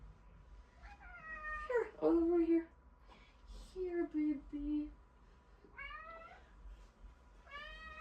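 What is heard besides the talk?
cat meowing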